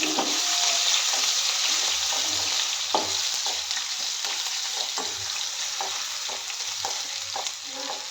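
Ginger and garlic frying in oil for a clam meat and tomato curry, a bright continuous sizzle close up, punctuated by a regular series of soft spatula taps and scrapes.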